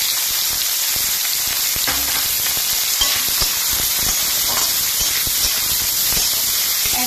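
Onion and green chilli frying in hot oil in a pan, a loud, continuous close sizzle and hiss with a few soft stirring knocks; nobody speaks.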